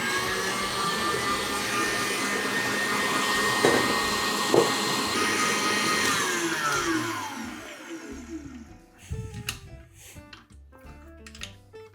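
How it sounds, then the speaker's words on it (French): An electric mixer whips four eggs into a light foam, a loud steady motor whir that runs for several seconds, then winds down and stops, leaving light clatter and handling noises. "Les 4 œufs sont mis, ce qu'on va laisser bien fouetter pour avoir une mousse légère, aérienne"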